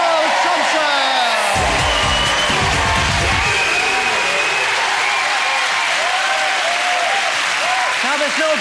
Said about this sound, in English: Keep your applause going for Little Bo Biggins and Anthony World Thompson